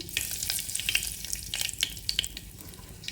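Mustard seeds crackle and sizzle in hot peanut oil for tempering, with a bright spattering hiss and scattered sharp pops, close and alone.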